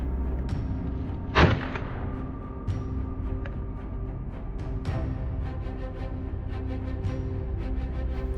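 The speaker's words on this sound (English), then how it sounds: "we pulled the trigger without hesitation" A single sharp hunting rifle shot rings out at wild boar in a wheat field setting, one loud near crack with a brief rumbling tail, standing out against steady outdoor background noise.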